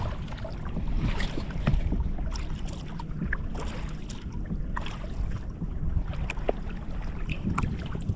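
Steady outdoor rumble of a small boat on water, with constant wind buffeting and soft splashing throughout, no talking.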